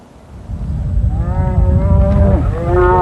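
Cattle on an open prairie give a couple of long, loud moos close by, one low call overlapping another, with a faint rumble of wind beneath.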